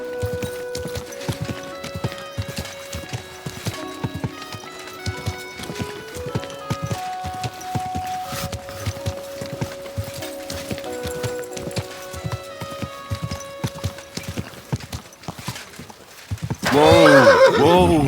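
In Kingdom Come: Deliverance II, hooves clip-clop steadily for most of the stretch over a tonal game-style backdrop, then a loud horse whinny bursts out near the end.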